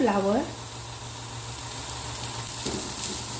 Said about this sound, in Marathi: थोडा वेळ आपल्याला हा परतून घ्यायचा आहे.